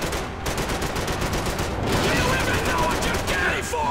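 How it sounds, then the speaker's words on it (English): Rapid sustained gunfire into a ceiling in the video game Max Payne 3, a dense, continuous stream of loud, close shots with no pauses, and a voice talking over it. "Said dramatically as I try to shoot the ceiling up from under him."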